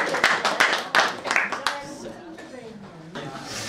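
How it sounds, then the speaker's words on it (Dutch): A small audience claps briefly at a book presentation, a few quick claps close by in the first seconds that fade under ongoing talk. "Applaus."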